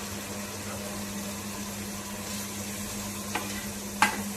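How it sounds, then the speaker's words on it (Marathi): Ginger garlic paste sizzles and fries in a pot while being stirred, a steady hiss with a low hum underneath and a couple of sharper scrapes of the spoon near the end. "त्याच्यामध्ये आता आपण आलं आणि लसणाची पेस्ट अशी टाकणार आहोत।"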